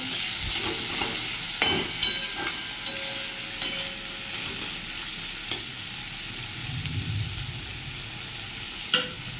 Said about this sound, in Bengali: আর কেটে রাখা কাঁচা লঙ্কাগুলো দিয়ে দেব দিয়ে ভালো করে নাড়াচাড়া করে নেব